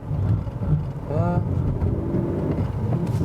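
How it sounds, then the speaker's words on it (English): A Seat Ateca SUV on an off-road obstacle course, tilted so some wheels hang off the ground, with a steady engine drone and a brief rising whine as a lifted wheel spins freely. "you maybe heard that some wheels were turning in the air"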